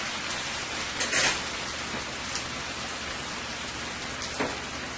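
Marinated beef frying in a pan for an elbow pasta dish, a steady dense sizzle with a few brief crackles and pops, no voices.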